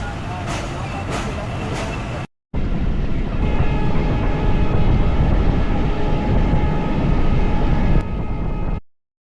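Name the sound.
train running after departing station, Mongla line, Bangladesh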